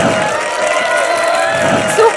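Audience at a workshop talk clapping fast and loud with hooting calls, a dense continuous crowd noise that rises briefly near the end.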